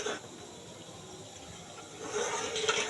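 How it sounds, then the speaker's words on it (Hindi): Water poured from a tap or jug into a thick homemade garlic pasta sauce in a kitchen, a steady close splashing and trickling stream that swells louder near the end. "इसमें थोड़ा सा मुझे पानी भी ऐड करना"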